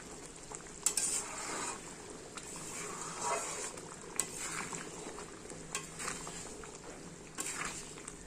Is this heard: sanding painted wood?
no